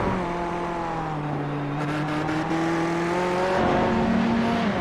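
Racing car engine in a Formula-style video game race with a Ferrari, a steady high whine with shifting pitch held throughout, loud and continuous with no voices.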